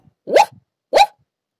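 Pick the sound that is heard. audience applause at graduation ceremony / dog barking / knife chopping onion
dog barking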